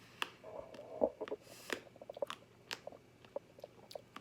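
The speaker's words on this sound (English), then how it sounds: "You hear that crunch?" Crisp, irregular crunching bites and chewing of an edible plant stem, close and quiet, with short gaps between bites and no talking.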